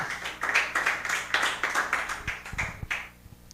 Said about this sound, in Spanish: Fuerte ese aplauso, aleluya